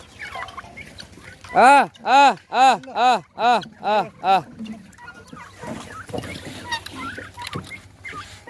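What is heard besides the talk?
turkeys gobbling on a free-range poultry farm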